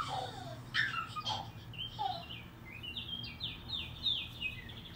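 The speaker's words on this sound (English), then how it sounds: "Can you hear the birds?" Several birds chirp and trill outdoors in a wild, jungle-like setting, with rising calls early on and a run of quick high twittering later, all over a steady low background hum.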